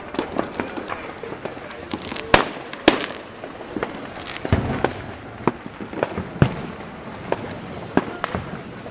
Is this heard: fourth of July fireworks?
yes